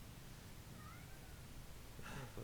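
A house cat gives a short meow near the end of a faint, noisy stretch of background hiss.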